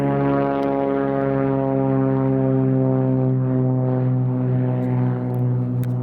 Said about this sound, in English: there's a plane, as you can see, taking off there